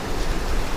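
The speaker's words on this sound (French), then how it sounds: "Les vagues elles reviennent." Sea waves washing in on a cold, windy shore, a steady broadband rush of surf with wind buffeting the microphone, continuous and fairly close, no voices.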